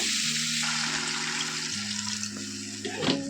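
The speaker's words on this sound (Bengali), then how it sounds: "এবার জল দিয়ে দেবো" Water pouring into a pan of Bengali bata fish curry, a steady close rushing splash that runs for a few seconds and ends in a brief clatter.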